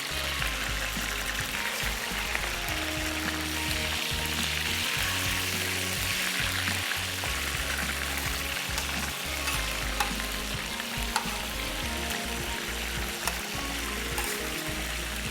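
Food for an egg and chickpea pulao frying in a pan and turned to cook both sides, a continuous loud sizzle and crackle running throughout with no speech.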